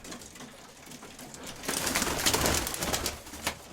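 Pigeons coo softly nearby amid rustling and faint fluttering, the cooing blending into a low, hushed background.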